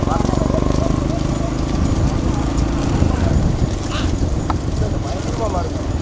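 Bulls pull carts at a rural bullock cart race in Periyasamipuram, Thoothukudi district, with rapid, steady hoofbeats and rolling cart noise under continuous excited commentary in Tamil.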